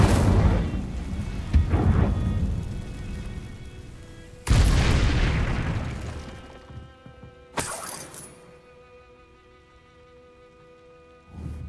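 Incendio fire spells cast in Hogwarts Legacy, two loud whooshing bursts that flare suddenly and roar briefly before fading into a lingering crackling tail, with quieter rumbling earlier.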